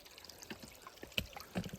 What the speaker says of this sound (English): it turns into a creek, which I am standing in right here